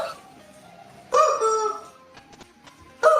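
Chickens strapped to people's feet during a rowdy game, with loud crowing and clucking in bursts, one near 1.1 to 2 seconds and another starting around 3 seconds, over faint background noise.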